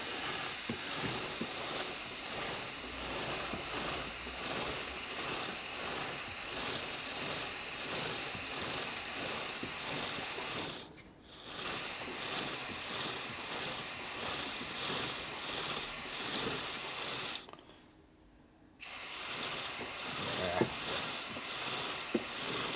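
Lubricant from a new aerosol can sprays onto the spinning belt drive of a Harley with an S&S 113ci Evo motor, a loud continuous hiss broken by two short pauses.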